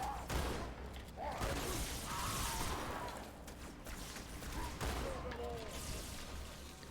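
Gunfire aimed at Tartarus during a Halo 2 boss fight, repeated bursts of shots and bangs at moderate distance over a busy, noisy game background.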